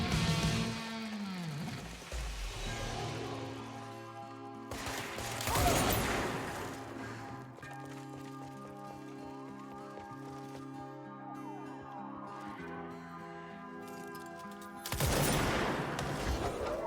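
In the video game Control, a sniper rifle fires in a few sharp, heavy blasts spaced several seconds apart, with tonal background music and electronic hums sustained between the shots.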